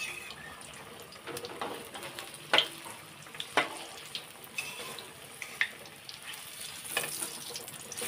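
Battered sandwiches frying in hot oil in a wok, a steady close sizzle and crackle with a few sharper pops and spits rising above it, no voices.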